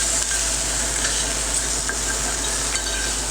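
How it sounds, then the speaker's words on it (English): Mushrooms sautéing in a pan are stirred, a steady close sizzle of frying under soft scraping and stirring strokes, continuous throughout with no talk. "Maybe I'll stir my mushrooms right now."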